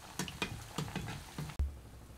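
Spoonfuls of palm-fruit malpua batter, Bengali style, drop into hot oil one after another. Each lands with a sharp burst of sizzling, about six in quick succession, close and fairly loud, with no talking.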